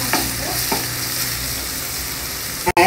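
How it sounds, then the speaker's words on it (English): Chopped onions and green chilies sizzling steadily in hot oil in a pan while being stirred, a loud, close, continuous frying hiss with a sharp clatter near the end. "Next, add some onions and green chilies and lightly fry them."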